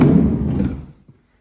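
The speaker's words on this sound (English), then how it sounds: "Sliding door all works perfect." The sliding side door of a 2014 Volkswagen Caddy van shuts with a short, muffled thud that quickly fades. A faint click follows after a moment.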